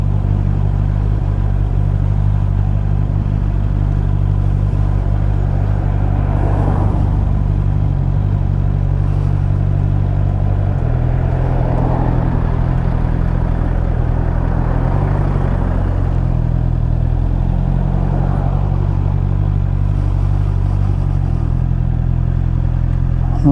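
A Honda CB650R motorcycle engine drones steadily and close while threading through Edinburgh rush hour traffic, with a low continuous rumble, wind noise and occasional surges as the revs rise and fall.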